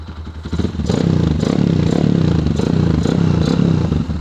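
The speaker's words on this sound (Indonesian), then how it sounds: "Kalau suara mesin emang ada suara ngelitik dikit ya teman-teman." A bored-up Kawasaki KLX 150 motorcycle engine idles and revs up close, a steady rumbling drone with a faint ticking knock running underneath.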